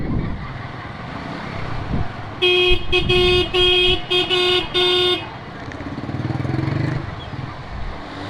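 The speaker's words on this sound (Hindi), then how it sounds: "और यहाँ पे ट्रैफिक हो गया है जाम।" A traffic jam in FB Area clogs a narrow street with idling and revving vehicles, while a loud horn blares in a run of short repeated honks midway, followed by rumbling engine noise.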